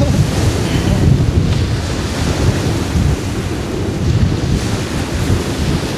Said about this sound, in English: if the wind wasn't blowing, it'd be wonderful